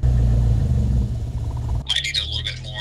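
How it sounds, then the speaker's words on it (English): A 600 hp Subaru WRX STI idles on fresh coils, plugs and injectors after a Link ECU install, giving a deep, steady low rumble for about two seconds before a voice breaks in. "She's on, she's idling."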